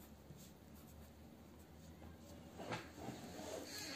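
Marker or chalk scratching across a board in a chemistry lesson on orbital energies, faint scribbling strokes in a quiet room, growing a little busier toward the end with no talk over it.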